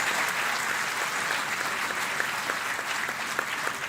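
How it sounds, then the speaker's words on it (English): Dense, sustained applause from a large audience saluting award recipients at a Teacher's Day and 40th Foundation Day celebration at MIT Pune, an even, continuous wash of clapping that stays loud throughout. "Let's give once again a big round of applause to all the award recipients."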